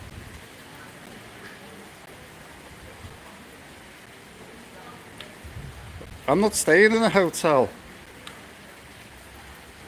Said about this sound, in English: No, there's no thunder or lightning at the moment. It's just a heavier downpour.